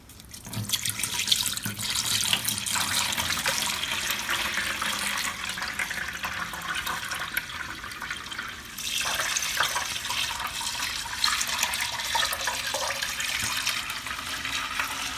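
Liquid poured into a boiler setup through a filter, a steady rushing, splashing stream close by that continues throughout with a brief dip partway.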